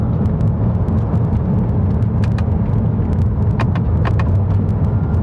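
Engine and road noise from a 2014 Porsche 981 Boxster driving in third gear on a public road, a steady, loud low rumble that holds throughout, with brief higher whines and tones over it.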